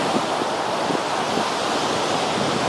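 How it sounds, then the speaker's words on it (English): Strong, steady wind roars and buffets the microphone at a paramotor training field, a continuous broadband rush with no voices. "Pretty high wind."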